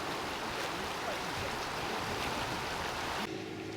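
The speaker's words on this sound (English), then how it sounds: "I always feel quite wary standing at the middle of this bridge while this river's piling through here." The flooded River Swale roars beneath a bridge, a dense, loud, unbroken rush of water heard close by, easing slightly near the end.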